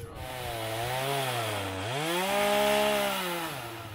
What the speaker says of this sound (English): Gonna get a little chainsaw.